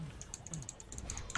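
Rapid mouse clicks in the dungeon-crawler video game Book of Demons, a steady run of short, sharp ticks at irregular intervals, close and fairly quiet over faint game background sound.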